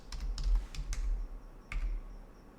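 Keys tapped on a computer keyboard while entering a Python virtual environment activate command at a command line, a quick run of close clicks followed by a pause and one last keystroke, alone without talk.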